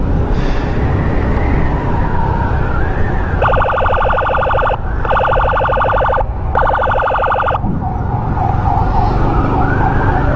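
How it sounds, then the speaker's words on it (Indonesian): An ambulance siren on an escorted emergency run sounds in three loud, steady bursts with short breaks, over the constant rumble of road and engine noise. "ambulans ada di belakang"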